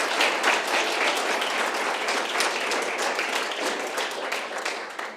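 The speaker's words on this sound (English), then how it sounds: "Please give an applause to Caroline." Audience applause at an architecture symposium for its curator, a steady wash of many hands clapping that slowly thins toward the end.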